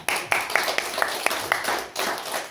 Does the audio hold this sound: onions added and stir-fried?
no